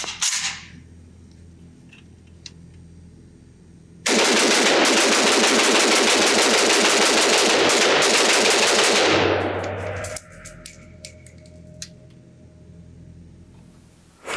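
A Zastava ZPAP M70 AK-pattern rifle emptied in one rapid continuous burst of shots, very loud and close, lasting about five seconds, followed by quieter clinks and handling noises.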